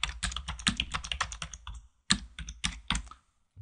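Typing on a computer keyboard while adding a sticky note to a document: rapid clusters of close, crisp key clicks, a brief pause, then another burst of keystrokes, with no talking.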